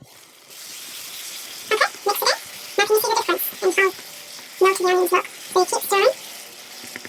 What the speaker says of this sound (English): all you've got to do is just keep mixing until your onions are fully melted